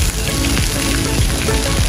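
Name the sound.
artificial rain on a drama set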